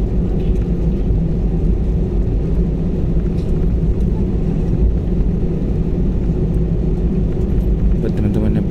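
Loud, steady jet engine rumble with a constant low roar and hiss from a Boeing 737 airliner taxiing on the runway, close by and unbroken throughout.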